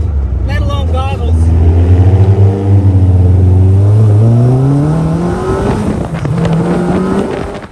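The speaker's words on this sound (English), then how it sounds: "Add in that great sounding exhaust, great sounding loud exhaust" A Caterham 7 sports car with a loud exhaust revs up, its rising and falling engine note droning close and steady throughout, with a brief burst of higher rasp near the start.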